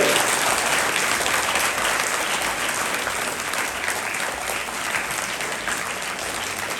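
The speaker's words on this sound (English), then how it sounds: "Put our hands together and give them a loud round of applause" Schoolchildren at a Children's Day celebration at an English school give a sustained round of applause, dense and steady, fairly loud throughout and easing slightly toward the end.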